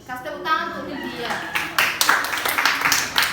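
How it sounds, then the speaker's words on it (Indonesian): Classroom applause for a student who answered well, a burst of hand clapping rising after a teacher's voice, with speech over the first part and scattered claps continuing to the end. "Kasih tepuk tangan untuk dia"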